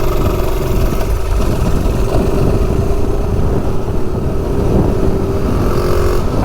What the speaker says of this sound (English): All right, 0 to 30. Kohler engine on the Rascal-lite.